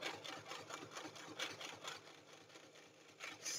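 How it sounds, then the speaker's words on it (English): A sewing machine stitches along the bottom edge of a handmade junk journal, running in a quiet, steady stream of rapid needle pulses with no talking. "So sewing along the bottom."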